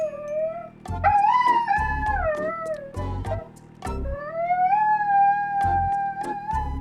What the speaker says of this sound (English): Nick, my dog started barking